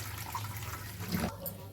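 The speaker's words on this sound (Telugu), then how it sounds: "ఇప్పుడు ఏదైతే ఉందో చల్ల నీళ్ళు పోసుకోవాలి" Cold water poured over drained pasta in a kitchen, a brief close rush of running water that cuts off abruptly near the end.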